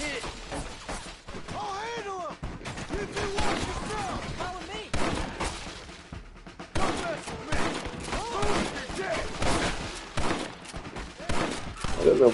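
Gunfire from the Red Dead Redemption video game, bursts of shots and impacts running dense through the whole stretch, mixed with shouting voices and game sound.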